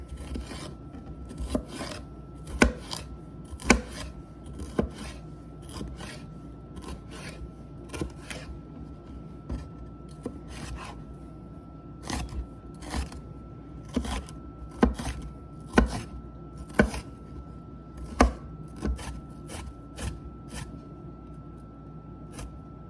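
A knife finely dices a large de-seeded bell pepper on a cutting board, giving a steady run of sharp, close chopping taps in bursts with short pauses, with no talking.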